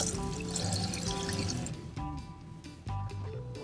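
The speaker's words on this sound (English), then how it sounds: "I really like having these little shower things with the water pressure." A pressurized hose sprays water at a fishing dock shower on Charlotte Harbor, rinsing fish scraps down a drain: close, splashing and pouring in bursts with brief drips between.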